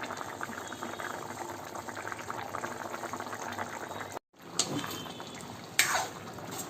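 Potatoes boil in a pot for a plain Bengali vegetarian potato curry, a steady close bubbling simmer broken by a brief gap and a couple of sharp clinks near the end.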